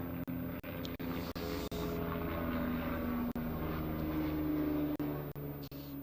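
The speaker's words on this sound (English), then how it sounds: "just gone over the ground in the helicopter. That was loud, wasn't it?" A helicopter passes low over a county cricket ground during Nottinghamshire versus Somerset, its loud, steady engine drone filling the air for several seconds with occasional sharp dips.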